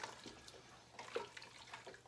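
Boiling water is poured from a kettle into a cooking pan for a chicken stew, a faint soft splashing trickle with small bursts of sloshing throughout.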